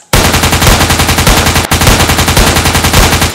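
Rapid rifle fire after a shouted order to fire: a loud, continuous volley of dense, evenly spaced shots lasting over three seconds, with one brief break midway.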